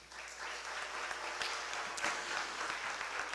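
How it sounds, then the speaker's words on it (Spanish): An audience in a conference hall gives a speaker a welcoming round of applause, steady and sustained, heard from some distance. "lo recibimos con un fuerte aplauso"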